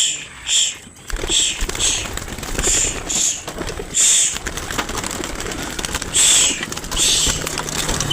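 Racing pigeons released during self-training make repeated bursts of sound and cooing nearby, with quiet voices in the background.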